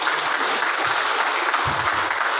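A crowd at a DXN Nepal gathering claps loudly and steadily, a dense, continuous round of applause from start to finish.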